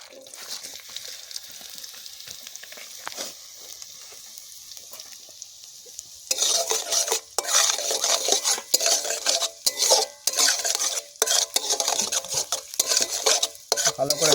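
Chili and garlic fry in a pan, first under a quieter sizzle, then with loud, choppy bursts of crackling and scraping as a spatula stirs the pan, close up and with no talking.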